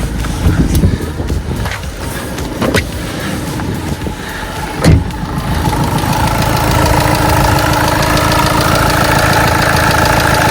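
A Volkswagen Golf 7 engine runs steadily, a mid-pitched hum with a few knocks and clunks early on, then a smooth continuous drone.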